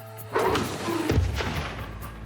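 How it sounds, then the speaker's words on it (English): A staged sewer explosion beneath a car, recreating a stunt meant to flip the vehicle: one loud, close boom with a deep thudding tail that rumbles on for about a second. "A-Team sewer explosion, final attempt to flip this car"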